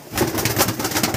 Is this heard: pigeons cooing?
yes